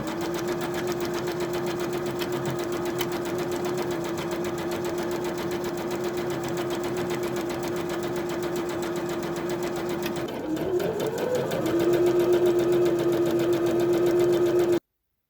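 A sewing machine stitches a zipper and lining onto a purse with a steady, continuous whirring hum that runs almost the whole time. It dips briefly and then resumes slightly louder near the end.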